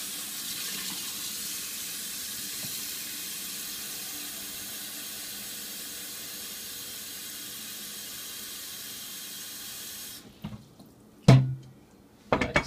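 Tap water runs steadily into a large pot meant for steaming pork and yam, a continuous broad rushing hiss for about ten seconds that then cuts off, followed by a few brief clunks and knocks of the pot.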